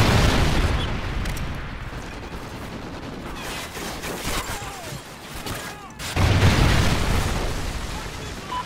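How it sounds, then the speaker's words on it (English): Trinity rocket strikes in Call of Duty: Ghosts boom through a long barrage of heavy explosions and rattling gunfire, with a fresh loud blast near the end. "Friendly Trinity rocket inbound."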